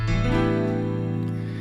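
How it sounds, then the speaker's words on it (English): A single sustained electric piano chord from a Romance piano preset, with a soft, vintage synthesized tone, rings out and slowly decays. "And I'm going to be using this Romance piano."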